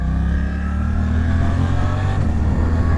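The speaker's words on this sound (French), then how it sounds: "Donc je coupe les gaz et je peux rétrograder tout seul." A motorcycle engine with a quickshifter, loud and close, holding a steady droning note as the rider closes the throttle and downshifts, with no talking.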